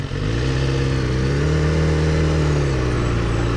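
A 2012 BMW S1000RR motorcycle at high speed, a loud continuous engine drone with steady layered harmonics that rise slightly in pitch, wind rush underneath, no voices.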